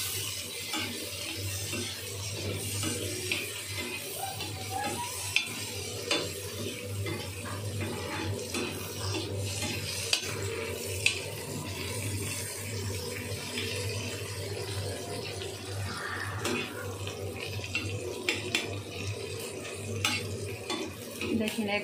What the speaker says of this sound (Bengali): তেলটা দিয়ে এবার ভালো করে ভেজে নেব।